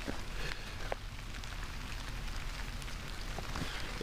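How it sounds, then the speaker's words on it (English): Light rain falls during a hike at Afton State Park in Minnesota, a soft, steady patter with scattered distinct drops striking nearby surfaces. "It was raining a little more than I would have liked"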